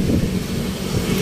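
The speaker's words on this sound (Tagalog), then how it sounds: "So, ngayon, malakas ang hangin." Strong wind buffeting the microphone while cycling through Metro Manila, a loud continuous low rumble and roar without any voices.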